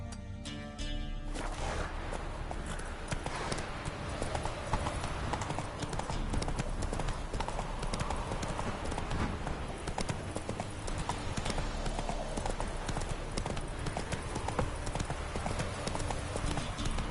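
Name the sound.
horse hooves galloping in a PS4 video game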